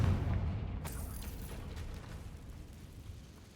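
A Confringo fire spell blasts in the Hogwarts Legacy video game: a heavy, booming burst with a sharp crack a moment in, then a deep rumble that slowly fades, with no voices.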